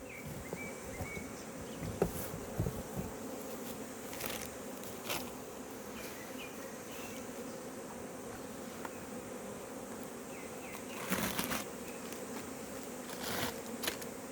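Honeybees at a hive being fed pollen cake fill the air with a dense, continuous buzz. Individual bees drone closer at moments, rising briefly above the steady swarm hum.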